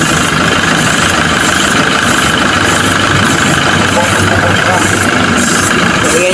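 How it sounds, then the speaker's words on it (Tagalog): A Toyota Innova 2.8 engine idles in a workshop during a transmission fluid change, giving a loud, close, steady rumble and hum that runs unbroken throughout. "Umaandar yung makina."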